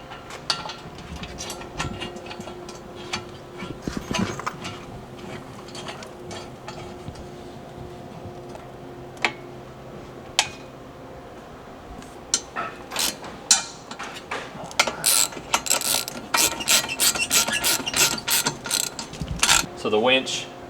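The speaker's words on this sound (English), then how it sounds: "I'll hold it up while Josh threads it in." Winch mounting plate hardware on a 5th gen RAM 3500 being fastened with a ratchet, giving scattered mechanical clicks and ratcheting bursts that grow busier toward the end, close by amid workshop clatter.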